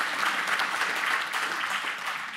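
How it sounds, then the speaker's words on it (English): An audience at a defense forum in Alaska gives a steady round of applause, a dense, even wash of clapping that holds for the whole stretch without voices over it. "Round of applause"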